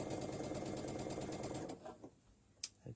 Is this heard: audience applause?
no